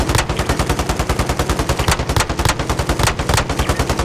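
Rapid automatic gunfire from a Call of Duty: Warzone match, loud and continuous bursts of shots with a steady rattling rhythm throughout, no talk over it.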